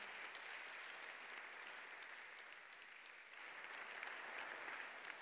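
An audience applauds steadily to welcome Emma Dante at a Senato & Cultura theatre tribute, as dense, continuous clapping that stays fairly even and somewhat distant throughout.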